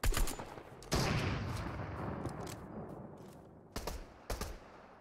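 Gunfire in the video game Fortnite: a sharp opening shot, then a long loud burst of rapid fire that trails off, followed later by a few separate quick bursts at mid distance.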